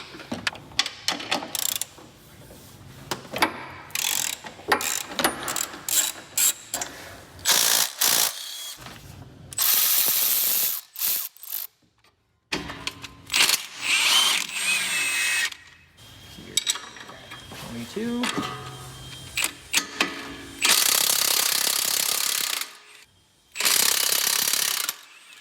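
Ratchet loosening nuts while a lift kit is fitted to a 2001-06 Acura MDX, bursts of rapid clicking pawl strokes close by, separated by short pauses and brief silences.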